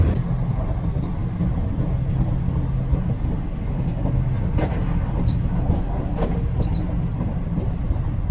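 Steady rumbling noise inside a moving train, a constant low drone with faint rattles and clicks, no talking.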